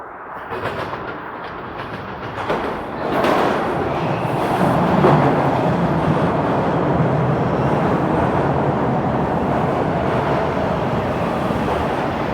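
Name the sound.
Toronto subway train arriving at Lawrence West station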